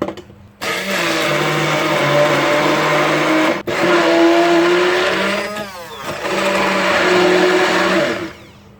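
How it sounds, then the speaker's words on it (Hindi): A blender whirs loudly grinding tomato chutney with green chillies and lemon juice, its motor pitch rising and falling through the thick mixture, with a brief pause midway before running again. "अब मैं इन सब चीज़ों को बहुत अच्छे से पीस लूँगी।"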